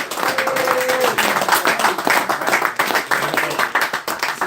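A congregation claps together during a live-streamed church service, a dense, steady patter of hands lasting several seconds with a brief tone near the start and some background voices.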